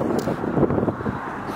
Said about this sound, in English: And windy. Very windy.